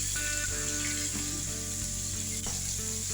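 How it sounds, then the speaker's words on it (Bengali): Chicken browns in a hot pan with garlic and onion, giving off a loud, continuous sizzle and crackle with occasional stirring scrapes, close up and unbroken throughout. "দিয়ে এবারে একটু মাংসটাকে কষিয়ে নেবো"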